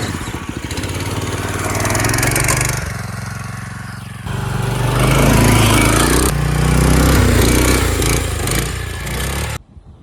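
A small go-kart engine, bought for $75 and restored, runs loudly and steadily right after a pull-cord start, its rough droning buzz rising and falling with throttle before cutting out at the end; no talking.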